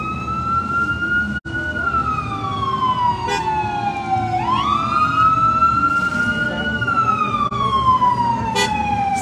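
An emergency vehicle's wailing siren rises and falls as it passes a Santa Claus parade at Six Nations, loud and close over steady traffic rumble, with a couple of short horn blasts.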